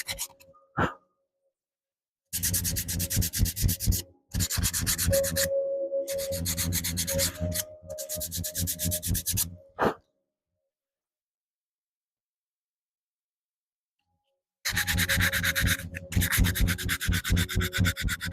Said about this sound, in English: And now step up to some higher grit stuff just to kind of smooth it off.